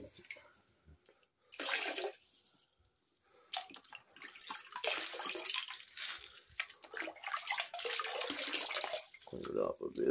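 Running water splashes and trickles over creek gravel and sand being rinsed in a container, coming in uneven bursts with short pauses in between.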